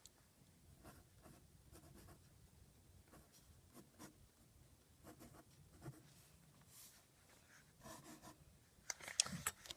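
A pen signs a drawing on paper, quiet close scratching strokes in short irregular bursts, with a busier flurry of marks near the end.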